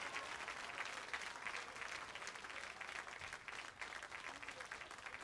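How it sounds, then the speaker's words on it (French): Sustained applause from a worship congregation in a church hall, steady and dense clapping throughout with no gaps. "Par l'Éternel, applaudissement dans la salle."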